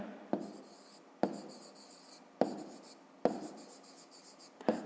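Pen or pencil writing an answer by hand on paper during a fifth-grade maths exercise, five sharp tap-starts each followed by short scratchy strokes, close and fairly quiet, with no talking.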